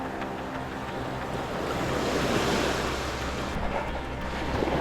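Ocean surf breaks and washes steadily along a beach where fishermen cast for tarpon, a broad continuous roar of waves mixed with wind buffeting the microphone.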